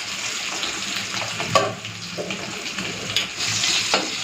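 Hilsa fish fry in hot oil in a pan, giving a steady, fairly loud sizzle and crackle with occasional spatters and stirring scrapes throughout.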